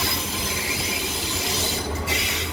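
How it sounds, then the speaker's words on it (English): A train reversing at Leeds station lets out a loud, steady metallic wheel squeal on the rails, with a continuous rumble underneath and a brief dip in the screech near the end. "Train reversing before continuing on to Hull."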